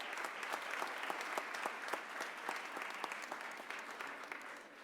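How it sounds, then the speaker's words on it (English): Audience applause at a mayor's press conference, an even patter of many hands clapping, distant and fairly quiet throughout. "give a big round of applause to Beth"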